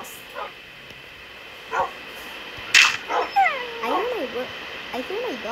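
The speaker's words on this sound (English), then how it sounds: "I hear my dog." A dog in a video game yips and whimpers in short bursts, rising and falling whines, over a faint steady hum and some quiet background voices.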